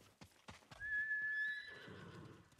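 A horse in the video game Ghost of Tsushima whinnies in a high, drawn-out neigh, preceded by a few hoof clops, with a low rumble trailing off afterward.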